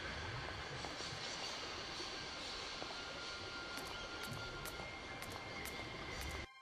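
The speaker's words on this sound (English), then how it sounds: "Because the train has finally left the station." In the video game Syberia, a train pulls out of the station with a steady, fairly quiet rumbling and hiss, faint clicks joining near the end, with no voices over it.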